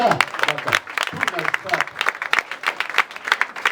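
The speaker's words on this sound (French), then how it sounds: "Ok, on applaudit très fort." Applause from wedding guests at a customary marriage celebration, with scattered claps and voices chattering over the clapping throughout, fairly close and lively.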